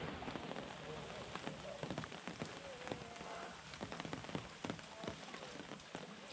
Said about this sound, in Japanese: 雨の中プールで水遊びを楽しむアフリカゾウの親子